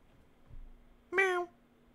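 A single short cat meow rings out clearly in a quiet room, with a faint low thump just before it.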